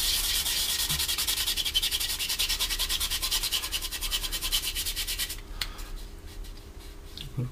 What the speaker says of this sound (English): if you moisten the actual sanding block as well, it will help